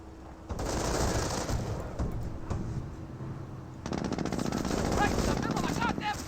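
Sustained machine-gun bursts and scattered rifle fire from a Company of Heroes battle with Panzer Elite forces, loud and continuous, with a dense rattle of rapid shots intensifying near the end; a voice speaks briefly over the combat.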